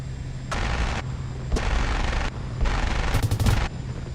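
An APC's mounted gun firing in a video game, heavy bursts in distinct chunks of about half a second to a second each, the last burst rattling with quick repeated shots.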